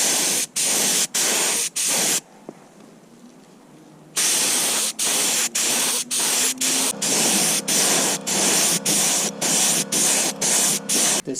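An HVLP paint sprayer lays a second coat on kitchen cabinets, hissing loudly and close in rapid repeated bursts with short breaks between passes, plus a quieter pause early on.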